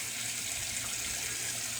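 A bathroom tap runs cold water steadily for wet shaving, giving a close, constant hiss and splash without pause and no speech.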